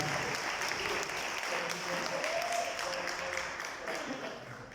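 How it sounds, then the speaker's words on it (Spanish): Steady, moderately faint applause from the audience of a tourism panel discussion, continuous for several seconds with a voice faintly heard beneath it, tapering slightly toward the end. "Un aplauso para Carlos y Andrea"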